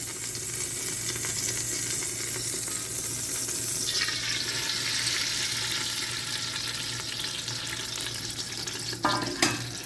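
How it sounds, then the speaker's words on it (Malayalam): Oil poured into a hot kadai on the stove gives a steady, close sizzle and hiss that swells partway through, with a brief clink near the end. "അപ്പോൾ കടായിലേക്ക് നമുക്ക് എണ്ണ ഒഴിച്ചു കൊടുക്കാം."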